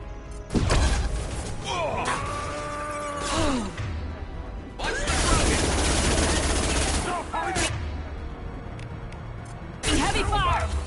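Heavy gunfire erupts in Mass Effect, with bursts of rapid shots and crashing impacts coming in waves across the battle, loud and close, mixed with game voices and sci-fi effects.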